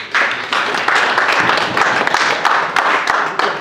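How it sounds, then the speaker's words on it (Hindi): An audience at an indoor training meeting claps for a person who answered a question, giving a steady, moderately loud round of applause of about three and a half seconds with no voices over it. "इनके लिए सब लोग ताली बजाइए।"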